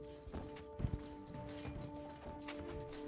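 Horse hooves clip-clopping in the online riding game Star Stable, a soft rhythmic patter of hoofbeats at a steady gait under a faint musical background.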